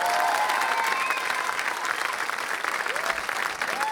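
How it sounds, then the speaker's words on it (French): A studio audience at a France Bleu Loire live radio session applauds, dense continuous clapping from a crowd close by, with faint whistles or voices mixed in. "Et vous pouvez applaudir Michael Jones aussi."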